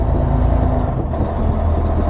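An M916A3 Freightliner 6x6 military semi truck pulling up to a gate, heard as a steady, low engine drone that fills the cab, close and constant with no voices.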